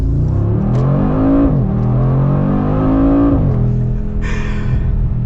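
A custom Mercedes G 63 G Wagon accelerates hard in Sport Plus mode with the suspension set firm, a loud deep engine roar climbing through the revs with two clear upshifts, heard from inside the cabin.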